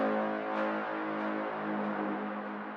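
Clean Serum 2 synth horn or braam patch with no distortion or EQ, a sustained buzzy saw-based chord holding steady for nearly three seconds with slight swells, alone and fairly quiet.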